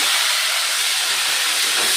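Tomato dropped into hot oil with cumin seeds gives a loud, dense, unbroken sizzling hiss. It stays steady for the whole brief moment, with no voices.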